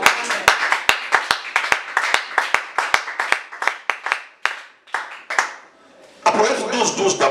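A church congregation claps loudly together in rapid, uneven bursts of sharp hand claps, close and full, then breaks into a brief wash of cheering acclaim at the end.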